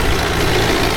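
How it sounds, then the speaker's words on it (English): A tractor engine drones at a rural building site, a loud, steady low rumble that fills the whole moment without a break. "oh no, the tractor's coming."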